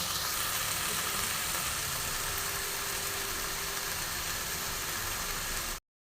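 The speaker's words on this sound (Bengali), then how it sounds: "মাংসটা ভালো মতো সিদ্ধ হতে হবে, সেই জন্য কিন্তু আমি ফ্লেমটা কমিয়ে দিচ্ছি, এবং ভাজা ভাজা করেই হবে, জল পড়বে না।" Chicken pieces for a chop fry in a pan over lowered flame, with no water added, producing a continuous, even, fairly quiet hiss of sizzling that holds steady before cutting off suddenly.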